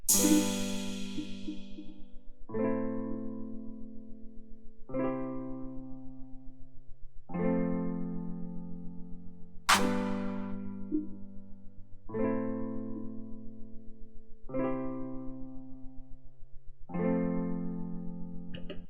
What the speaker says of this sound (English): what I've introduced is this crash